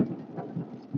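Thunder from a cloud-to-ground lightning strike during a severe thunderstorm in Western Pennsylvania, a low, muffled rumble rolling steadily with soft rain-like texture and no voices.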